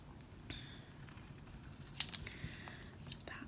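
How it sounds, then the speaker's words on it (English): Scissors snip paper to cut out bookmark shapes, a few sharp cuts close by with a crisp snip near the middle and quiet gaps between them. "So now what I'm going to do is cut those out."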